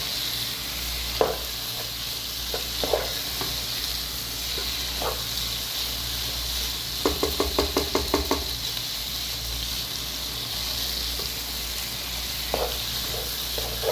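Okra frying in a pan for dhaba-style bhindi, a steady hiss of sizzling oil with occasional clinks and a quick series of scraping stirs partway through.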